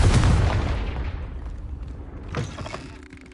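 A Confringo fire spell blasts in Hogwarts Legacy: a heavy booming explosion that rolls off and fades, followed about two seconds later by a second, softer burst with a crackling tail.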